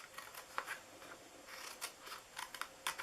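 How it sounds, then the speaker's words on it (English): Scissors snip quickly through the paper flaps of a gingerbread house treat box, a series of short, close, crisp cuts in an otherwise quiet setting. "We're going to just cut up each side, each one here of our flaps."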